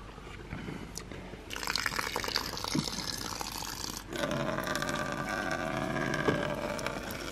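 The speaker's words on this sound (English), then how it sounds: "I fill it up with water" A bucket being filled with water outdoors in a garden, with a steady rushing, gurgling pour that grows fuller and louder partway through and runs continuously, close by.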